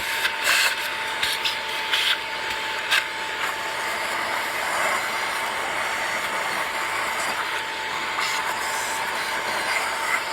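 A shop vacuum sucking debris out of the thermostat hole on a 2006 Yamaha 115HP outboard motor, a steady loud whine and rushing airflow with a constant tone, close and continuous with occasional rattling bursts.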